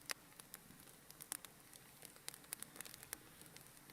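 A fake fireplace gives off a soft, faint crackle, with sparse irregular pops and ticks scattered over a quiet hiss and no other sounds.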